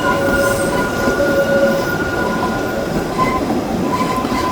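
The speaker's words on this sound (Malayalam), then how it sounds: "നമ്മുടെ ട്രെയിൻ ഇതാ തൂകിപ്പാഞ്ഞ് മലമുകളിലേക്ക് കയറിക്കൊണ്ടിരിക്കുകയാണ്." Kalka-Shimla heritage train climbs a mountain line through tunnels and over old stone arch bridges, loud and close, with a continuous rolling rumble and sustained high metallic wheel squeals throughout.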